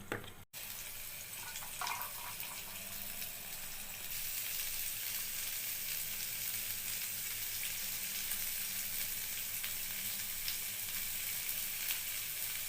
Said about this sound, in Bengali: আর দিচ্ছি অল্প একটু জিরে ধনের গুঁড়ো ভেজে নেব